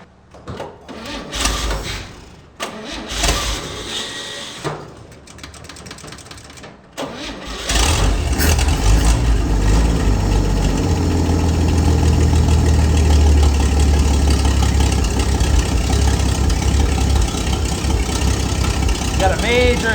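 A 1959 Chevy Apache truck engine cranks and catches, then settles into a loud, steady rumbling idle with a rough, raspy edge from a major exhaust leak.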